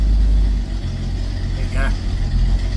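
Ford XB Fairmont engine running steadily with a low mid-pitched hum as the clutch is slowly let out, moving from idle into a gentle pull-away, close and fairly loud throughout with a brief whine partway through.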